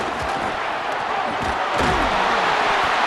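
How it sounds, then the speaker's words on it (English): Stadium crowd roaring and cheering at a football game in Death Valley, a loud dense wash of voices with thuds and shouts rising toward the end. "Listen to the crowd energy here in the early going."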